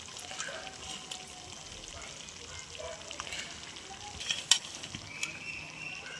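Mutton pieces for biryani fry quietly in ghee with spices, giving a low, steady sizzle and faint crackle with a few brief louder pops.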